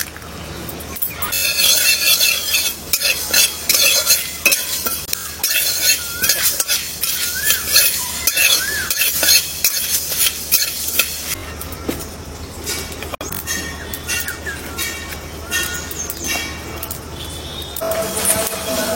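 Dry spices such as black mustard seeds are roasted in a dry wok over an outdoor village fire, with a utensil scraping and clinking against the metal in dense, irregular bursts, loud and close, with only brief background voices.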